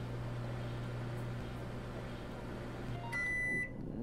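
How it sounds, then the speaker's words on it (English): A microwave oven in the Job Simulator video game hums steadily at a low pitch, then stops and gives a bright electronic beep near the end, with no talk. "I will microwave it."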